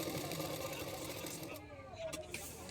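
Sewing machine stitching the side seams of a boat-neck katori blouse, a quick rattling run of stitches under a voice before it slows and stops.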